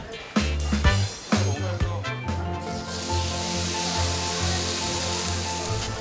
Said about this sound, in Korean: 지글지글 구워지는 한우